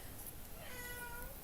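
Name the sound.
cat meowing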